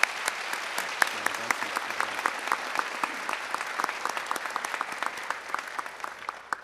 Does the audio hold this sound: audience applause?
yes